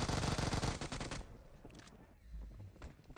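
Rapid automatic gunfire from the video game PUBG Mobile, loud and close for about a second before fading into quieter scattered shots and ambient noise.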